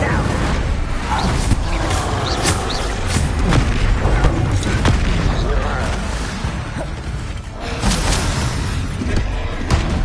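Bombarda spell blasts from Hogwarts Legacy boom loudly in quick succession, heavy thuds and crackling bursts layered over combat clatter, with a voice talking over the explosions.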